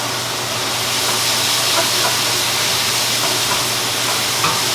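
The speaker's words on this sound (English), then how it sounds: "You hear it sizzling away, sizzling away." Garlic sizzling in a hot pan for a green curry: a steady, loud, close frying hiss with crackling spatter that runs unbroken throughout, no voices.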